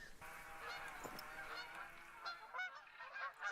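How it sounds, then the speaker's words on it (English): A flock of geese honks in theHunter: Call of the Wild hunting game, several overlapping calls repeating irregularly at moderate distance, clear and unaccompanied by talk. "We could see a rare goose."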